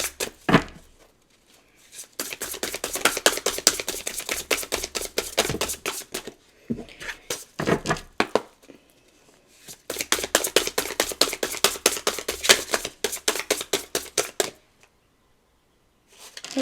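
Playing cards are shuffled in long riffling runs of quick crisp flicks, pausing briefly between bursts, close and fairly quiet.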